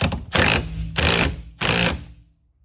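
Milwaukee cordless impact tool tightening a steering nut on a Blazer, three short loud rattling bursts of hammering with brief pauses between, close up and alone.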